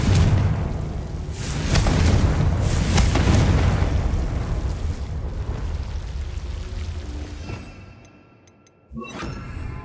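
A Confringo blasting spell goes off in Hogwarts Legacy, a loud booming explosion with a rolling, crackling tail that gradually fades before a sharp second burst near the end.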